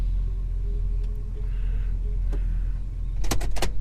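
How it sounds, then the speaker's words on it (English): A Holden HK Premier wagon engine idling, a low steady rumble close by, with a few sharp clicks and knocks near the end. "She's idling nicely at least."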